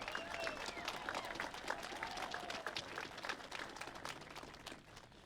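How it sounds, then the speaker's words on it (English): Faint applause from an audience at a college football championship rally, soft clapping with scattered voices and a slight fade toward the end. "Please join me in a round of applause for the people who made today's event possible."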